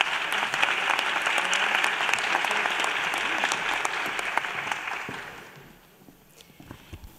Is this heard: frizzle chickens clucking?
no